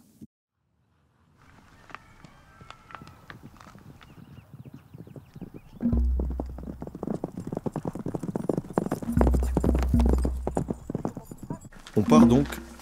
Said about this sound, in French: On part donc pour 7 heures de cheval dans la montagne.